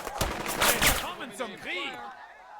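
A few sharp gunshot cracks from the Burden of Command battlefield open the moment, followed by a voice speaking over fading reverberation.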